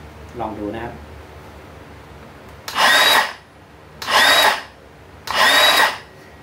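A metal-cutting circular saw makes three loud, bright, screeching bursts, each lasting about a second, after a brief spoken phrase.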